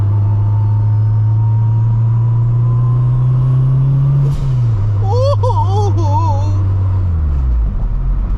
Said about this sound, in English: y'all can hear the straight cut gears